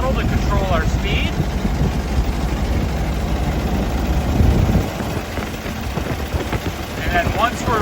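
A 1925 Ford Model TT fire engine cruising down a road in high gear, its engine giving a steady low rumble with a slight dip in load partway through and faint wind noise.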